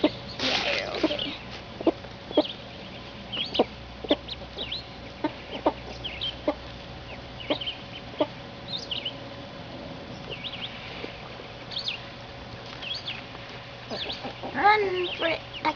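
A mother hen with ducklings clucks in short, repeated soft calls at an irregular rhythm, heard close by, with a few peeps and brief louder squawks toward the end.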